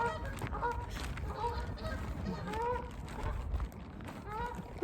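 Wild green-headed ducks keep calling with repeated nasal honks and quacks among scenic flower gardens, several birds fairly near, rising and falling in short bursts over a low outdoor background.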